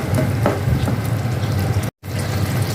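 Prawns sautéing in a pan just after salt goes in, a steady close sizzle and crackle with faint stirring, cut by a brief dropout near two seconds.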